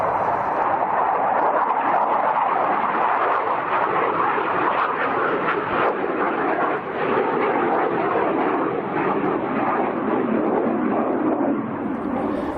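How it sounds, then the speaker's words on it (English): A jet aeroplane roars low over a campsite beside Darwin airport, a loud, broad continuous rumble that fills the whole stretch without letting up. "if you're one of those people that don't like aeroplane noise"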